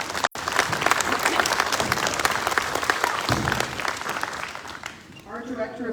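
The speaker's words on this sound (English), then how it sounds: "let's give a round of applause to those businesses." A school assembly audience applauds the sponsoring businesses, steady loud clapping from a crowd that fills the room, then tapers off near the end as a few voices rise.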